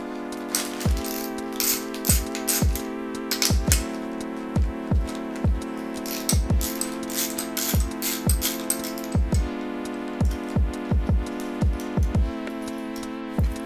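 A ratchet wrench clicking as it loosens the bolts on a CX Racing turbo wastegate, giving bursts of quick metallic ratcheting clicks over a faint steady hum. The clicking stops and restarts irregularly, close and clear.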